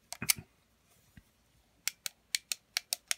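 A clicky button on a ThorFire LED work light is pressed repeatedly, producing a run of sharp, close clicks in a quiet room after a few fumbling handling sounds.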